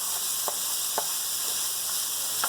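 Zucchini fries in a pan with garlic, paprika and olive oil, giving a steady bright sizzle throughout, with a few soft stirring taps punctuating it, close and with no talk.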